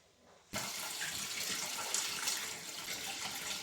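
Water pours steadily into a pot of chickpeas, starting abruptly after a short quiet moment and continuing as an even, splashing rush, close and fairly soft, without any speech.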